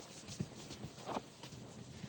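Hooves of a young horse in training clip-clop at a walk on soft ground, a few muffled steps close by against steady background noise.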